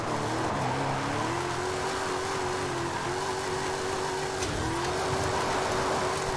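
Toyota Tacoma TRD pickup in a drift build, heard as a steady, loud engine drone with a rising and falling pitch and tyre noise, close by and continuous throughout.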